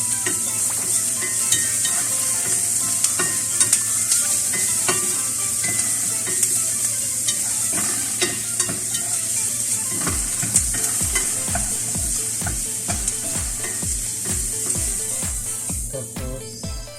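Garlic hits hot oil and sizzles steadily while being stir-fried in a pan with bitter gourd and chicken. Continuous loud frying hiss runs throughout, with a burst of rhythmic stirring scrapes in the final seconds.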